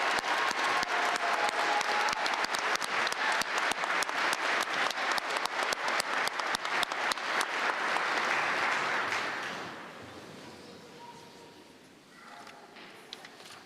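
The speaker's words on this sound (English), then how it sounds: "Let's have a final round of applause for our new master's graduates" An audience at a December commencement ceremony applauds new master's graduates, a dense, sustained wave of clapping that rings out for about nine seconds before thinning and fading into hall murmur.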